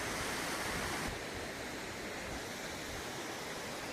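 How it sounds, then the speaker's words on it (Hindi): A small waterfall beside a nature park in Kothi, Manali, roaring as a steady, dense rush of water, close and even throughout with a slight drop in level after the first second; no voices. "ये देखो वाटरफॉल यहाँ तक आ रहा है।"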